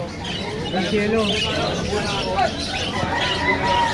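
Red-hooded parakeets squawk and call at a bird sale, their harsh cries rising over steady crowd babble and nearby talk.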